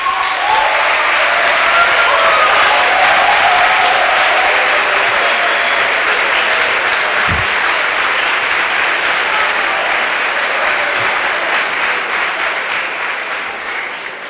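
A conference audience claps loudly in a sustained, dense round of applause that slowly tapers toward the end.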